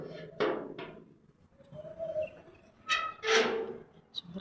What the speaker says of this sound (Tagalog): Yung may ibon.